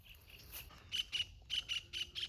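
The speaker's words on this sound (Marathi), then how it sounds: "खंड्या पक्षी." Kingfisher calling on farmland, a series of short, sharp, high chirps in quick bursts, faint and somewhat distant, alone without talk.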